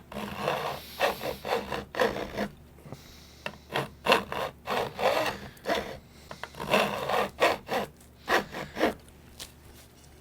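Steady hand-filing strokes on the metal fret ends along a guitar fretboard edge to cut a bevel, a repeated rhythmic rasp of about twenty close, crisp back-and-forth passes with brief pauses between them.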